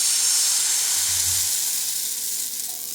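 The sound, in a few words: chitoi pitha batter poured into hot oiled kadai, sizzling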